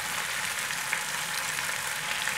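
Sliced marinated pork stir-frying in oil in a pan, a steady close hiss and sizzle that holds at an even level throughout, with no voices.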